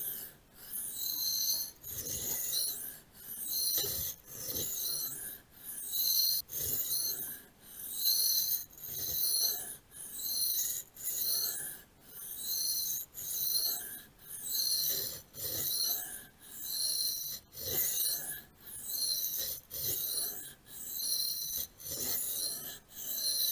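Steady rhythmic rasping strokes of a Proelia knife blade drawn back and forth across a sharpening stone, about one stroke per second, close and continuous.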